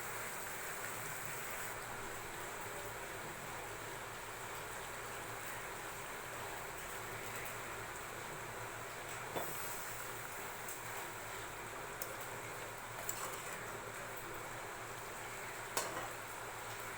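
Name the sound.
pouring boiling water into cooking mutton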